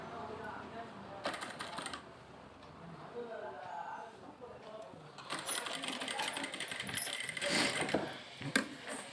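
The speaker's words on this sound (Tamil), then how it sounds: "இங்கேருந்து தைங்க." A sewing machine stitches a puff sleeve in bursts of rapid mechanical clatter, nearer and louder toward the end, with someone talking between the runs.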